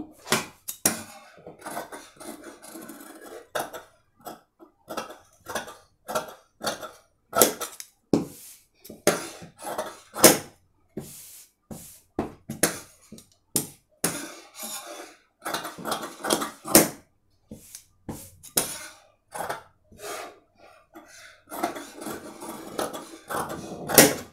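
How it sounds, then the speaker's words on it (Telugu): Scissors cutting cloth for a blouse with a square neckline, making a long run of sharp, irregular snips and clicks that come in quick bursts with short pauses, close and fairly loud. "ఇప్పుడు మనం కట్ చేసుకుందాం"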